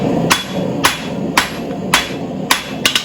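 A blacksmith's hammer peen strikes hot steel while forging tongs, landing about six sharp metallic blows at a steady rhythm, close and loud, the last two coming quickly in succession.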